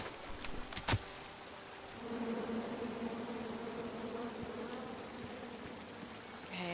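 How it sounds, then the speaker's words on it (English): Angry bees swarm from a tree in the King's Quest adventure game, making a steady, droning buzz that swells a little after a couple of brief clicks and carries on evenly at moderate loudness without any speech. "you chop down the tree full of angry bees"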